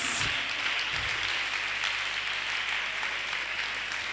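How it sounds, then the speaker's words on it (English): A crowd at a Day of the African Child roadshow claps steadily as Kasmira Tete, Ghana's youngest news anchor with GNTV Junior, comes forward. The applause is faint and distant, a continuous wash with no talking over it. "Please clap for her as she comes"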